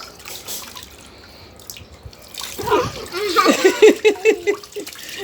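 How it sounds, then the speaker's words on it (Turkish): A child gets water poured over the head while sitting in a toy bucket used as a pool, bringing splashing and rhythmic dripping under an adult's voice, followed by a burst of close splashes. "Ver su dökeyim kafanda."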